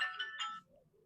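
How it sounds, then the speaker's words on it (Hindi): A phone ringtone chirps briefly in a classroom, a short bright electronic melody of a few notes that cuts off after about half a second, quiet and slightly distant. "होगा कोई किसी का फोन।"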